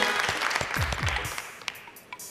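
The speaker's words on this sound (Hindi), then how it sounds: "यमुना जैदी, तालियां।" Studio audience on a talk show gives a short burst of applause, moderately loud at first and then thinning out, with a few stray claps and light background voices.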